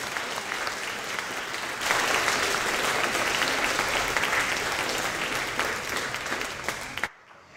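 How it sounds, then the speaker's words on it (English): A congregation applauds volunteers at a religious service, dense sustained clapping that swells louder after a couple of seconds, then fades and cuts off abruptly near the end. "let's give our volunteers a big round of applause."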